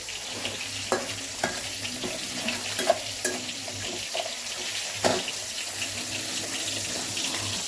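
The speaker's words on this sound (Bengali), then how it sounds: "পেঁয়াজটা ভাজা ভাজা হয়ে এসছে" Onion fries in a pan with a low steady sizzle, punctuated by repeated close clinks and scrapes of stirring, no talking.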